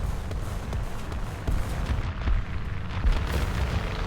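A 15 cm artillery gun fires in a World War II tank battle game, with deep, rumbling booms and heavy blasts rolling continuously, loud and close, amid general battle noise.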